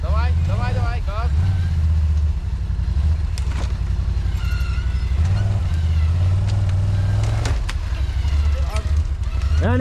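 A vehicle engine on a dead-end forest track drones loudly and steadily, swelling as throttle is given, while voices shout over it throughout.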